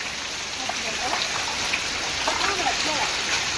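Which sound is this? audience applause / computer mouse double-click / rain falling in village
rain falling in village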